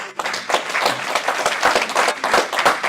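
A church congregation at a French-language service claps together in a close, lively burst of applause. Individual hand claps can be picked out within the steady patter.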